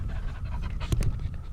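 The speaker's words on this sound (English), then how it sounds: "why are you breathing so heavy?" A dog pants heavily and rapidly in a truck shop during a Peterbilt 379 build, with loud, close, steady breathing and no talk over it.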